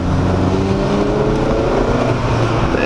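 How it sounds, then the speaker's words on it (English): A loud, steady engine drone fills the whole stretch, the pitch holding high as the car pulls hard. "The engine sounds good too"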